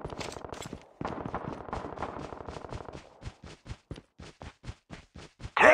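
Gunfire in the mobile shooter Call of Duty Mobile: a loud, close run of rapid automatic shots, then a string of evenly spaced single shots.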